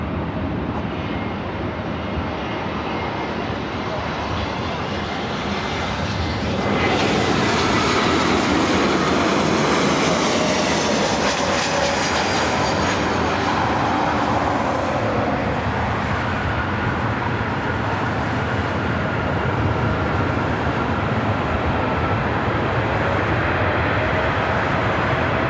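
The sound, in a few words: airplane at LAX airport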